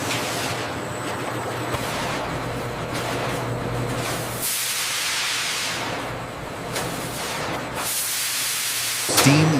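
Steam hisses steadily inside a pasteurization tunnel for kiwi syrup at a factory, loud broadband hiss with a few sharper bursts and surges over about ten seconds, alone without voices.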